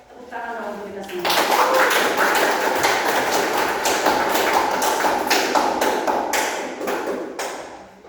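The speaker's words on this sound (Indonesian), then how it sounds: "Tepuk tangan dong untuk kita semua." A class of students applauds together at the close of a lesson, a dense burst of clapping that starts suddenly after a few spoken words and continues steadily, fairly close and loud, tapering slightly at the end.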